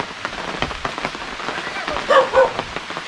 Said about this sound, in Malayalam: മഴ ഇതായിട്ട് പൊടിയുന്നു,